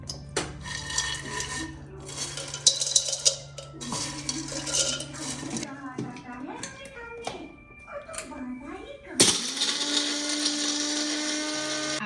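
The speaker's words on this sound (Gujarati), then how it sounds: "ગુંદર ઠંડો થઈ ગયો છે હવે આપણે એને મિક્સરમાં ક્રશ કરી લઈશું" A kitchen mixer grinder crushes fried edible gum in several loud whirring bursts with rattling and clinking between them, then runs steadily at the end, with no voices.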